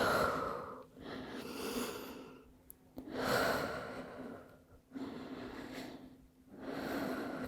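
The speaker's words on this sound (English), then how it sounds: "Nice deep breath." Slow, deep breathing in a yoga child's pose, with long inhales and exhales repeating in a steady cycle of about three breaths, close and fairly soft, with no talking.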